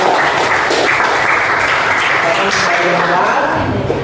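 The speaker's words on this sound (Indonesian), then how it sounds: "tepuk tangan untuk Mas Seska." Classroom applause for a student after a religious-studies lesson, a dense, steady wash of many hands clapping for about four seconds, with some voices mixed in.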